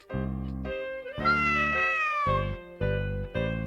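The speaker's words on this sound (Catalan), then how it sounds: "Aquest gat que m'ha seguit fins a casa" A stray cat that followed someone home meows repeatedly, loud and close, in a string of drawn-out, rising and falling cries with short pauses between them.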